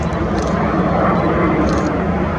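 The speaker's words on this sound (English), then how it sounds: "I love this new airplane. Love it. Whatever you want to call it. C-Series or A220." Airbus A220 (C-Series) airliner, a loud, steady, close broadband engine roar that holds level for a couple of seconds with no pauses.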